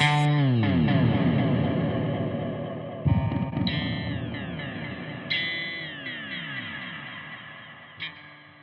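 An Ibanez RGKP6 electric guitar plays distorted chords that ring out and decay into a long, washy reverb tail, with a few fresh strums cutting in along the way.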